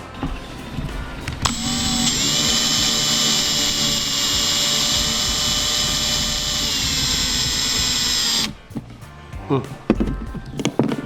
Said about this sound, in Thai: ขอสว่านหน่อยเจ๊